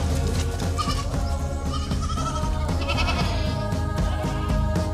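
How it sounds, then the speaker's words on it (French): Little goat bleating among a livestock group, several bleats rising over a dense, loud bed of farm noise. "La petite chèvre qui saute, qui gambade, qui court"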